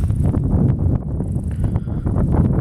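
Strong wind buffets a microphone outdoors at a lakeside campsite, a loud continuous low roar with gusting surges and rustling, no voices.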